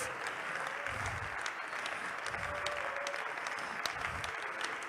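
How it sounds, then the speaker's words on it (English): A congregation claps hands together at a church service, a dense, steady wash of many hands sustained throughout at fairly constant loudness, with no voices standing out. "You need to clap your hands."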